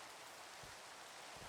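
Rain falls steadily in the Minecraft video game, a soft hiss of fine drops with a couple of faint low thumps, quiet and constant.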